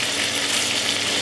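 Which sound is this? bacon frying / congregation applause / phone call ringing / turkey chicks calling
bacon frying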